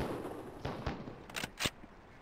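Officers on a firing range fire shotguns loaded with buckshot, a few distant, muffled booms in quick succession over a low background rumble.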